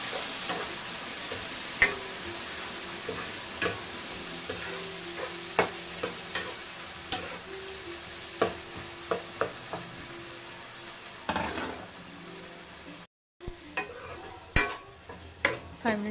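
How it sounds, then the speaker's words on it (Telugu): A pan of blended tomato, ginger and garlic paste being stirred for a restaurant-style vegetable dum biryani, with soft scraping and gentle sizzling plus a few sharp clinks of the spoon against the pan, steady and close with no talk. "టమాటాలు, అల్లం వెల్లుల్లి ముక్కలు కలిపి మిక్సీ పట్టిన పేస్ట్ యాడ్ చేసుకొని మిక్స్ చేసుకోవాలి"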